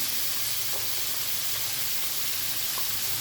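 Chicken sautéing in a pan with chopped onion and garlic gives a steady soft sizzle with faint occasional pops and no talk over it.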